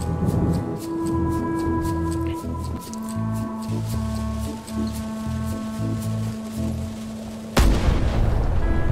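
A cannon fires in the video game Return to Monkey Island, one heavy boom near the end that follows a stretch of tonal game music and effects, with no talking.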